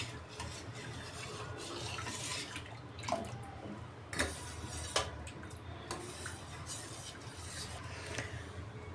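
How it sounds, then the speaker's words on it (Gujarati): A spoon stirs sugar syrup with cold water in a vessel, a soft swirl of liquid broken by a few sharp clinks against the side. "અને મિક્સ કરી લેશું"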